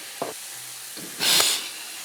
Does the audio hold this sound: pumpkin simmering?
yes